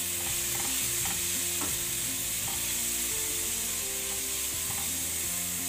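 Tomato and vegetables stewing in a pan for a vegetable soup, with a steady dense sizzle and hiss close up, plus faint intermittent tapping and stirring and no voices.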